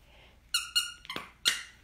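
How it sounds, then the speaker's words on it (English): A squeaky plush raccoon dog toy gives several sharp squeaks from its tail, two quick squeals followed by two more after short pauses, close and loud with no talking. "The tail squeaks."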